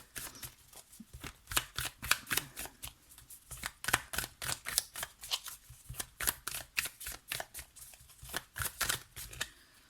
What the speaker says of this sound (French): Allez, on rajoute une carte de tarot pour compléter.